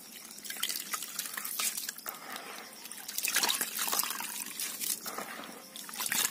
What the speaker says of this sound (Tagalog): So, lagyan na natin ng tubig.